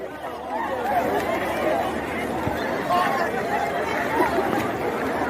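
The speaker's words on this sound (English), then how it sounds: "Oh boy, see crowd" A crowd of people at a voter registration site chatters in a dense, continuous babble of overlapping voices, close and fairly loud throughout.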